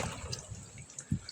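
Water trickles and splashes in short drips and gurgles, close and moderately loud with no speech, as shallow water drains during a mud-pond fish and shrimp catch.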